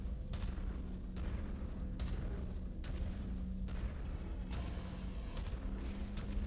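Mech weapons firing in MechWarrior 5, heavy booming shots landing about once a second over a constant loud rumble of battle, close and powerful.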